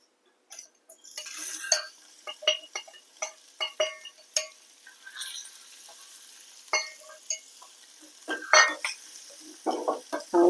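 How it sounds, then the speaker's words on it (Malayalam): Coconut pieces fry in ghee in a pan while a spoon stirs and scrapes them, giving irregular clinks and scrapes over a faint sizzle, close and fairly quiet. "ഇതേ നെയ്യിൽ തന്നെ നമുക്ക് തേങ്ങാക്കൊത്ത് വറുത്തെടുക്കാം"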